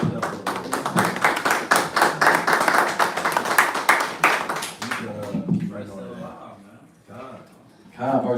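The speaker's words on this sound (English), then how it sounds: "Gotta clap it up for the Lord." A church congregation claps together at a Sabbath service, loud steady rhythmic handclaps for about five seconds, then they fade out as voices and room murmur carry on and a voice rises near the end.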